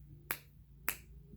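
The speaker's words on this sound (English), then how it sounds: "I'm gonna snap my fingers 3 times." A finger snap rings out twice, sharp and close, about half a second apart, over a faint steady hum.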